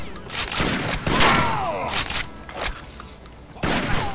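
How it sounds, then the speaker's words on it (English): Shotgun blasts in Rainbow Six Vegas, several sharp bursts spaced irregularly, close and loud, with a person talking over them. "This is a shotgun with an unbelievable amount of range."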